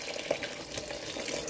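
Tap water runs steadily into a cooking pot to rinse out leftover greens, a continuous splashing hiss heard alone and fairly close.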